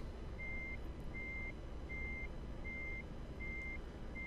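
A truck with a trailer backs up in Euro Truck Simulator 2, its reversing alarm sounding six evenly spaced beeps over a low engine rumble, with no talking.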